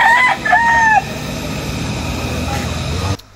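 A rooster at the Mount Brigino gamefowl farm in Bulacan crows loudly and close by, two quick calls in the first second, followed by a steady background hum.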